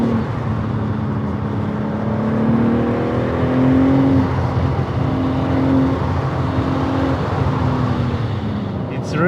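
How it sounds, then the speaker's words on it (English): A BMW M3 Competition with its gearbox in S2 mode accelerates hard, its engine note climbing steadily and loud through the run as a sustained rising drone, with talk partly overlapping. "when I changed the gearbox to this S2 mode, I think the car is even faster and it's even more scary"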